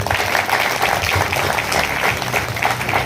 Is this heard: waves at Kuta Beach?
no